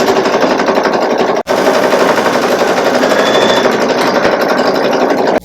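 A Baby Lock Solaris Vision embroidery machine stitching a candle mat makes a rapid, loud, continuous needle chatter close up, briefly stopping once midway and again at the end.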